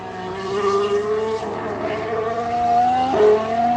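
A Mercedes Formula 1 car engine running rough: a loud, continuous, buzzy high-revving drone whose pitch rises and falls with sliding shifts, sounding close and harsh with no talk over it.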